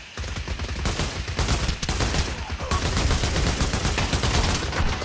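Rapid bursts of AK rifle fire in the Pavlov VR shooter, loud and close, with sharp cracks in quick automatic strings and a few brief pauses between volleys.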